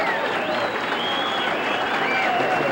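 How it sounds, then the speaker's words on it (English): Sustained standing ovation from a banquet crowd at a 1986 sportsman's banquet, dense continuous clapping filling the room, fairly loud and steady throughout. "you're getting a standing ovation here from the crowd"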